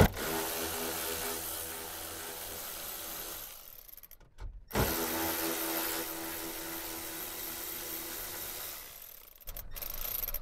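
A power tool backs screws out of a car's small tray and cluster frame at a junkyard, giving a loud, steady mechanical whir that runs several seconds, stops briefly, then runs again close up.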